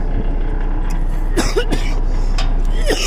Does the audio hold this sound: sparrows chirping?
no